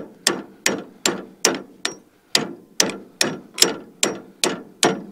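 Hammer blows tapping a part into place on a New Holland 488 baler, about ten sharp metallic strikes in a steady rhythm, close and loud, with a short pause midway and no voices.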